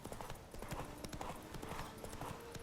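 Horse hooves in The Witcher 3 gallop in a quick, steady clip-clop rhythm at moderate volume, with a faint whinny mixed into the hoofbeats.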